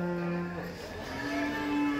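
Bullocks low in one steady, drawn-out moo at the Dhule cattle market, close and fairly loud, with a bright harmonic tone that dips and then rises again.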